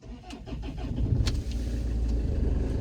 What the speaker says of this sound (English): We sound a bit lumpy, these engines.